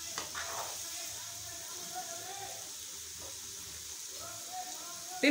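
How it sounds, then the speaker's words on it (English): Kozhakattai (modak) dumplings fry in hot oil with a steady, moderate sizzle and faint bubbling that runs throughout, while a voice talks softly over the top. "you have to fry them in the oil"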